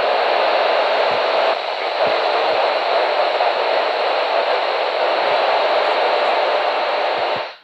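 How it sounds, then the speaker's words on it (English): Dense, steady radio static hisses loudly and evenly from a receiver tuned to an amateur satellite, with faint brief blips of amateur transmissions, before cutting off abruptly at the end. "What we're listening to is radio amateurs transmitting up, trying to make contacts elsewhere on the footprint of the satellite."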